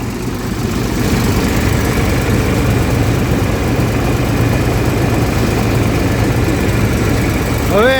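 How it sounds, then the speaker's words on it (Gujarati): A tractor engine runs loud and close at about 13 to 14 on the throttle, powering a groundnut thresher, a steady low chugging rumble that holds throughout, with a voice briefly heard near the end. "આ ટ્રેક્ટર કેટલા રેસ ઉપર હાલે છે"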